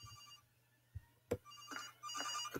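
A telephone rings inside the horror video game Case: Animatronics, its electronic trill pulsing in two short bursts near the end over a low steady hum, with sparse thuds earlier.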